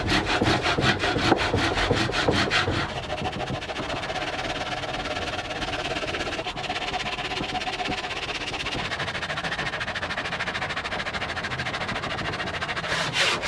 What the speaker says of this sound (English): Now it's back to the handsaw, and I'm going to work on roughing in the flipper portion of the flipper.